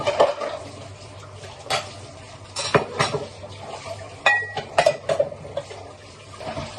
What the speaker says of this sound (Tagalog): Dalawang pala yung isang kaldero ang hugasan natin.